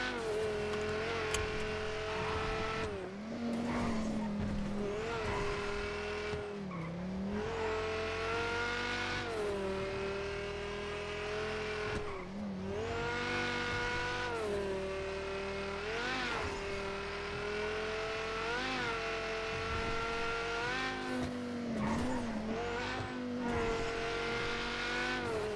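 A sports car engine revs and shifts through gears, rising and falling in repeated pulls with a raspy, harmonic tone, moderately distant and steady throughout.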